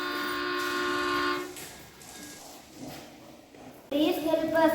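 A cartoon train engine arrives with a steady, loud whistle-like horn tone lasting over a second, followed by quieter rumbling and a second brighter horn blast near the end.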